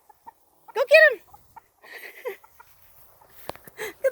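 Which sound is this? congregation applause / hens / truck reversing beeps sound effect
hens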